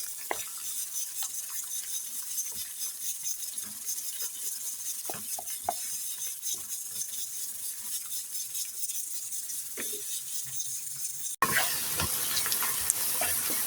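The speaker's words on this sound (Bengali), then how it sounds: "এখন আমি এর মাঝে দিয়ে দিব কেটে রাখা সব পেঁয়াজ, ক্যাপসিকাম, রসুন মরিচ। আমি এটি ভালো করে ব্রাউন করে ভেজে নেব।" Chopped onion, capsicum, garlic and chilli fry in oil in a pan with a soft, steady sizzle and hiss, punctuated by occasional stirring clicks, before a sudden louder burst of frying near the end.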